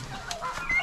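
A short burst of honking, clucking fowl calls rises from ducks and turkeys penned on a farm, a couple of calls close by within less than a second.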